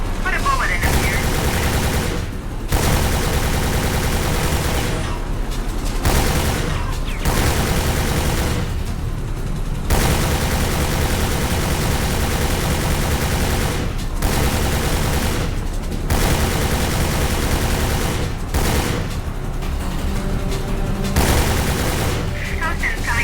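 Rapid gunfire bursts in the Secret Service video game, loud and continuous, with short pauses between volleys and a few booming hits, near and dense throughout.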